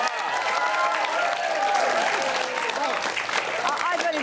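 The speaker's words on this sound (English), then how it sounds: "Wow, a round of applause, ladies and gentlemen." A studio audience gives a round of applause on a cooking show, a steady burst of clapping mixed with cheering voices and chatter, loud and sustained for several seconds.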